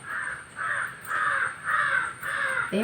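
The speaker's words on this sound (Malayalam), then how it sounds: "ഇവിടെ മൊത്തത്തിൽ ഫുൾ അലമ്പാണ് ഈ കാക്കച്ചിമാർ." Several crows caw in loud, repeated bursts at a steady rhythm, close by and with no talk over them.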